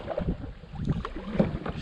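Canoe gliding along a shallow river left low by a heatwave, with soft close splashes and paddle-like water sounds over light wind noise, no talking.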